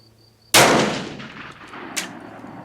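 A single sharp rifle shot from a Steyr at an outdoor range cracks loudly and decays with a long echoing tail, followed by a faint metallic ping shortly after.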